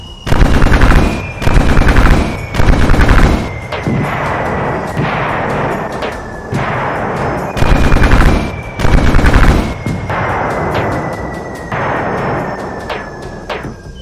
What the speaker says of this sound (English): a dozen anti-ship batteries on the surface surrendered their camouflage, opening fire on the infalling bombs